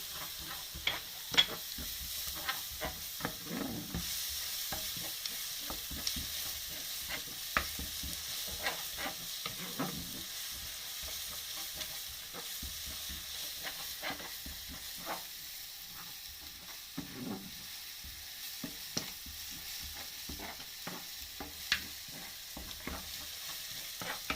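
Onions frying with added spices in a pan for a Turkish turkey and rice dish, a steady close sizzle with repeated stirring scrapes throughout, no talking.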